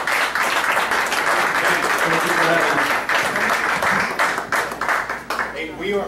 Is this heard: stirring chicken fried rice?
no